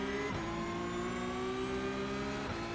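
A Porsche Cup race car engine in iRacing at Sebring holds a steady, sustained drone with brief dips as the gears shift, loud and continuous throughout, no talking.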